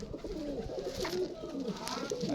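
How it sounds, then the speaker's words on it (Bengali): A female Rampuri pigeon coos softly and close by in low, rolling murmurs that go on without a break for a couple of seconds. "এটা রামপুরি কবুতর মাদি"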